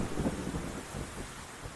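Deep rolling thunder from a storm rumbles steadily with a wash of rain, loud and close throughout, with no voices.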